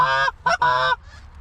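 Geese honk loudly during a goose hunt, two or three close nasal calls in quick succession followed by a faint distant honk.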